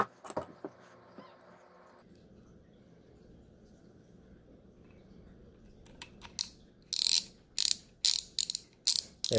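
Repaired Stanley ratchet wrench clicking near the end, a short run of sharp, close, rapid clicks after quieter handling sounds, with no talk.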